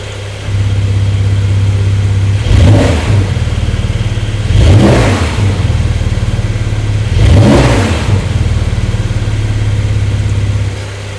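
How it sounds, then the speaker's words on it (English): Porsche 911 idling with its sports exhaust open, then three sharp revs spaced a couple of seconds apart, each rising into a loud, close bark and dropping back to a deep, steady idle. "This is with the sports exhaust closed. And open."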